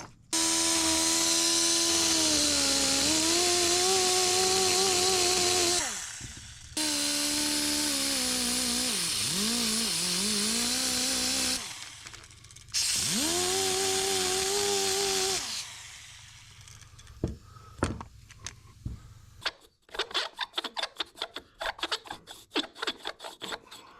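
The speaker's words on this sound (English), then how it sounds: "Probably got to take a little bit out there first with the old Dremel." A Dremel rotary tool grinds on an engine part of a Kawasaki KX85 dirt bike, whining loudly in long high-pitched bursts that dip and rise under load, stopping between passes, then trailing off into scattered clicks and taps.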